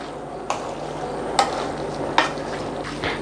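Chole masala is stirred in a pan after chaat masala or amchur powder goes in, giving a few soft scraping strokes about a second apart over a low steady cooking hiss, with no talk.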